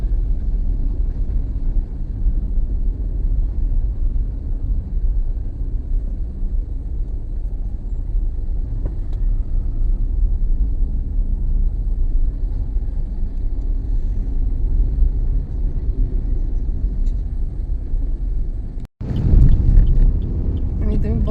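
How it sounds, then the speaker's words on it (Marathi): Traffic jam on Ghodbunder Road near the Chena bridge, heard as a steady, loud low rumble of idling and slowly moving vehicles that runs throughout, with a brief jolt near the end. "पण ट्रॅफिक मात्र फुल जाम आहे"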